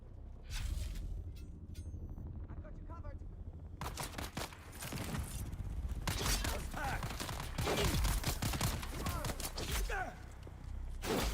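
Dune: Awakening firefight with rapid, sharp gun bursts that start sparse and build into dense, sustained fire, while a voice talks over part of it.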